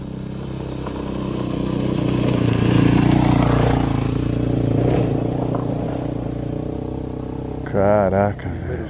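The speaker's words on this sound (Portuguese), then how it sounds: "tá vindo uma moto ali" A motorcycle approaches on a street near a railway track at night, its engine swelling loudly and accelerating as it passes close by, then fading, while someone talks over it.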